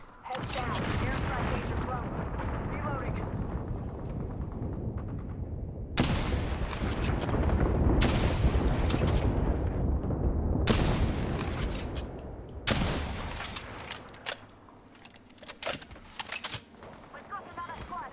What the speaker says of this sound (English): Heads down. Airstrike danger close.